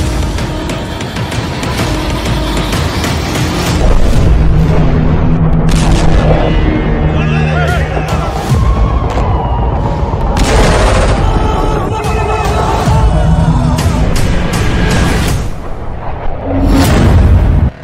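Bombardment in Gaza brings a run of heavy, loud booms and rumbling blasts in quick succession, some overlapping, with rolling echoes between the impacts.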